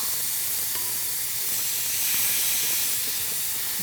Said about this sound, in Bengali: আমরা তেল দিয়ে দিচ্ছি সরিষার তেল